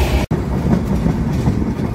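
The Jahanabad Express runs at night through Shibchar railway station in Madaripur on an elevated stretch of the Dhaka–Padma Bridge–Jashore line, with a loud, steady rumble and rhythmic wheel clatter from on board and one brief dropout near the start.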